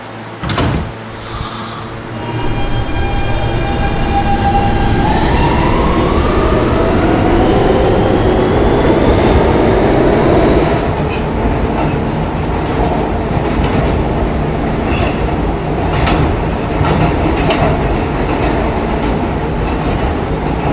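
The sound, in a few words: R160B Siemens E train running in Roblox video game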